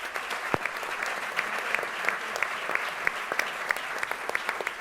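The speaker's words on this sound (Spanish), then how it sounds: "también pido un aplauso para ellos" Audience applause fills a book presentation hall, a steady dense patter of many hands clapping throughout with scattered sharper claps standing out, moderately loud and sustained without voices.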